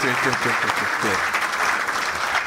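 Steady, loud applause fills a lecture hall audience, with a voice speaking briefly over the clapping at the start.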